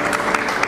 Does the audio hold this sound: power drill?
no